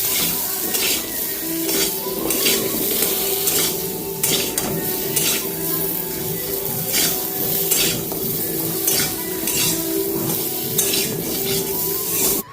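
Eggplant and potato pieces frying in a pan with salt and turmeric stirred in, giving a steady close sizzle broken by repeated scrapes and clinks of a utensil against the pan, with music running faintly underneath.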